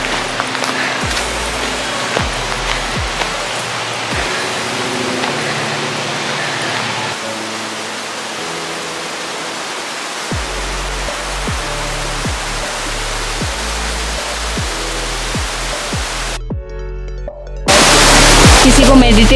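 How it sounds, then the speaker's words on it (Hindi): The Solbergfossen waterfall in Lier, Norway roars as a continuous broadband rush close by, with scattered knocks and handling bumps and a sharp jump in loudness near the end. "हमें झरना मिल गया है"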